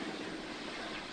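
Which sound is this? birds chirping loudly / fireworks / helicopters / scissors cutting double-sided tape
helicopters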